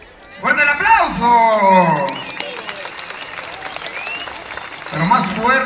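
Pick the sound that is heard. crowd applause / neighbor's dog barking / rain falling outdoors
crowd applause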